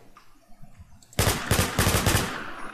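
Rapid bursts of automatic gunfire from the online survival shooter WarZ erupt suddenly after a quiet stretch, loud repeated volleys close up and continuing to the end.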